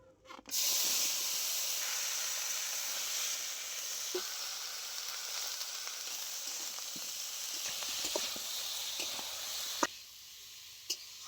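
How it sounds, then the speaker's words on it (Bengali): Bottle gourd stems, green plantain and potato hiss steadily as they sauté in hot mustard oil, a close, even sizzle broken by a few light clinks and stirring knocks near the end. "একই তেলের মধ্যে আমি লাউ ডাটা কাঁচকলা আলু কষিয়ে নেব"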